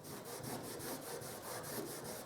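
Steady back-and-forth rubbing on a paint-wetted, dried MDF surface, a dry scraping rasp repeating in an even rhythm, close and fairly quiet with no talking.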